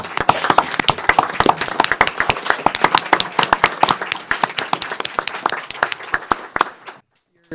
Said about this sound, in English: So Carol, let's give you a round of applause.